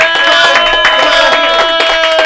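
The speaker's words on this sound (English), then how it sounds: "Get the applause going." Comedy club audience clapping and cheering steadily throughout, loud and close, with no gaps, amid bright tonal whistles or music-like ringing.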